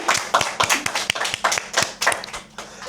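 A small group at a science night in Koh Phangan, Thailand claps for a volunteer model, a few close, distinct, uneven handclaps in a loose rhythm with no talking.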